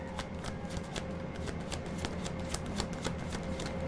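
Tarot cards being shuffled by hand, a steady run of soft riffling flicks and slaps at close range with no talking, over a faint low hum.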